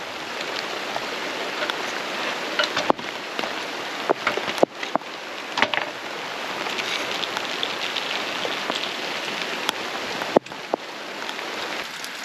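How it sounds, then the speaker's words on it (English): Steady, dense rain falling outdoors on an off-grid property in Portugal, a continuous broad hiss close by, punctuated by a few sharper drips and taps, with no talk. "it is actually really nice to see the rain"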